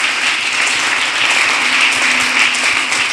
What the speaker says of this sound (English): We are clapping for the Holy Spirit.